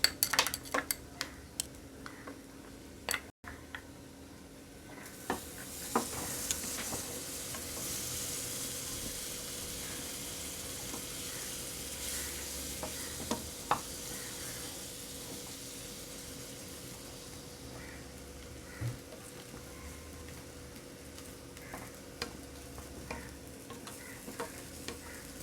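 Butter sizzling in a pan while being stirred for chicken sausage bread rolls, a quiet continuous fry with frequent utensil clinks and scrapes against the pan, close and without speech.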